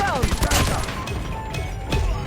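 Shots from an MK2 rifle in Call of Duty Mobile, a quick string of crisp bangs at the start followed by a few more scattered shots, close and loud, with game effects and a voice underneath.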